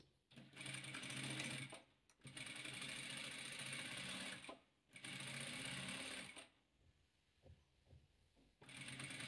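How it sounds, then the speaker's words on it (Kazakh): A sewing machine stitches fabric squares for a patchwork flower in close, loud bursts of rapid whirring, stopping and starting several times with short pauses between runs. "Осыны осы 2 шаршымызды тігіп шығамыз."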